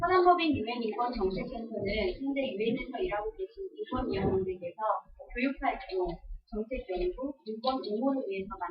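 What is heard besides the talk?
None of the usual background noises is heard.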